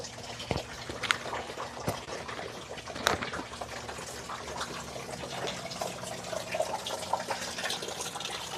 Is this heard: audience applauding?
no